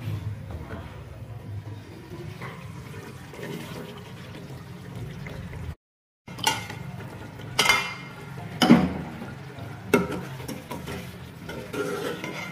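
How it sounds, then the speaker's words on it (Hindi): Keema gosht being stirred with butter and tomato puree in a pot: a low simmering bed with scattered metallic spoon scrapes and clinks against the pot, growing a little louder toward the end, with no talking. "अच्छे से मिक्स करेंगे।"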